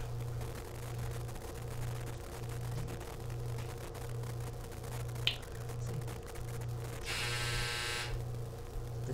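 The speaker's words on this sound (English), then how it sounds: "The dryer went off." A clothes dryer's buzzer sounds once in a steady, harsh burst of about a second, rising over a constant low mechanical hum in a quiet room.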